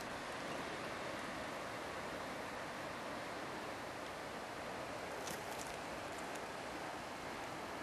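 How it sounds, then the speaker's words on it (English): Telegraph Creek pours into the Stikine River as a constant broadband rush of flowing water, steady and fairly distant, with no voices or breaks. "That's the Teltown River flowing into the mighty Stikine River"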